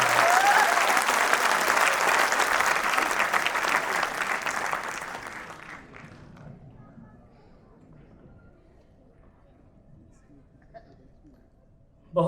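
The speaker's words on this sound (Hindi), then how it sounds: "जोरदार तालियों के साथ बुलाइए विनोद पांडे" An audience at a poetry gathering gives loud, dense applause to welcome poet Vinod Pandey; it rings out strongly for about five seconds, then fades into a quiet room.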